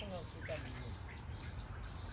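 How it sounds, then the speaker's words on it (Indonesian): Birds chirp and tweet in short, scattered calls amid a constant high insect drone at the tropical Singapore Botanic Garden, moderately distant. "Tuh, suara-suara burung."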